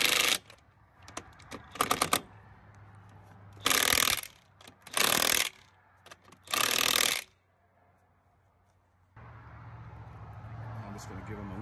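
Ratcheting torque wrench tightening the pivot bolts on a tow dolly during a pivot bushing replacement, heard as several separate bursts of rapid clicking with quiet pauses between them, ending on a steady low hum.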